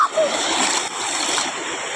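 Heavy rushing river water swollen by strong rain in the mountains, a loud, steady broadband roar filling the whole clip, with a brief voice or squeal near the start.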